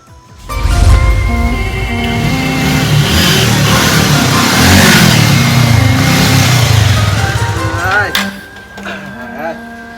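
A new motorbike engine revs up loudly close by and holds a high, rising drone for several seconds before fading as it rides away, with voices briefly heard near the end.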